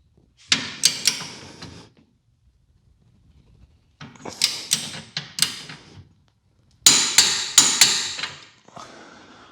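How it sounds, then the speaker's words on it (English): A ratchet-type torque wrench, set to 74 foot-pounds, tightening a bolt on an adjustable rear toe arm, heard as three separate bursts of sharp, close metallic clicks with short silences between them. "now we got our torque wrench sent to 74 foot-pounds. Just tighten it up"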